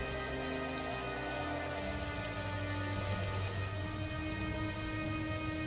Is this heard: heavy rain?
yes